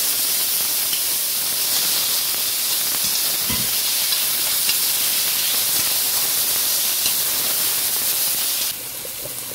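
Chopped onion and tomato fry in a preheated pan, giving a steady, loud, broadband sizzle with a constant hiss that runs unbroken and then drops a little in level near the end.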